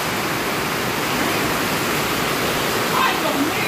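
Water floods into a house in a loud, steady rushing roar like a torrent pouring in, continuous throughout with a voice faintly underneath.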